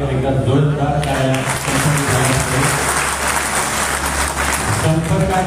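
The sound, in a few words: loud applause from audience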